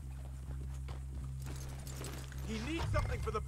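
Horse hooves clip-clop at a steady walking pace in the Red Dead Redemption 2 video game, set against a low hum, while voices talk over them later on.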